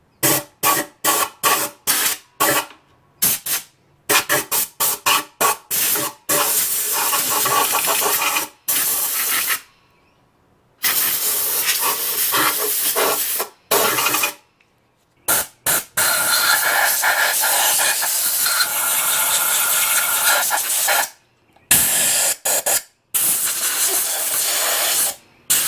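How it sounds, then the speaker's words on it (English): Air hose blowing dust out of the air filter of an Exmark zero-turn mower: loud, close hissing blasts, first in rapid short pulses and then in long continuous bursts broken by brief silences. "I'm going to take my air hose and just blow out some of this dust."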